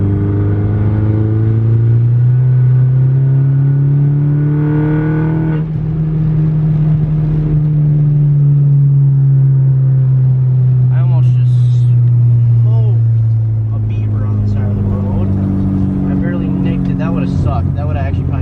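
Turbocharged Chevrolet Cobalt SS engine pulling hard in fourth gear, a loud, steady, droning rise in pitch from close inside the car, easing briefly before building again, with a voice speaking over it.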